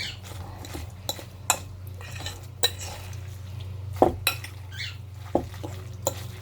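Potato latke mixture being stirred in a bowl, with scattered spoon-on-bowl clinks and scrapes at an irregular pace over a low steady hum, close and fairly quiet, no talking.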